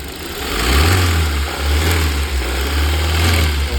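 A 2021 Hyundai Sonata DN8 2.5 engine runs loudly up close with a low throbbing hum and a buzzy, rattling texture from faulty intake manifold flaps, steady throughout with slight revving.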